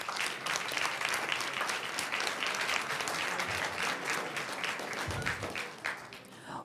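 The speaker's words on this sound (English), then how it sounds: "Let's give her a round of applause." An audience at a school board meeting applauds an eighth grader, steady dense clapping filling the room at moderate distance for several seconds, with a brief low bump near the end.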